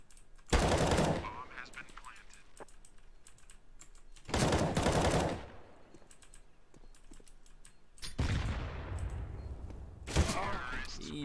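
Bursts of automatic rifle fire in the video game CS:GO come in four loud clusters spread evenly across the stretch, with quieter game ambience and clicking between them.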